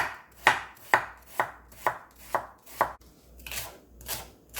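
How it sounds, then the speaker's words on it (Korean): A kitchen knife slices fresh shiitake mushrooms into half-moon pieces on a cutting board, close and crisp, with about nine evenly spaced chops in a steady rhythm and nothing else heard. "표고버섯 썰어서 다 넣어주세요. 은근 반달 썰기 해줄게요."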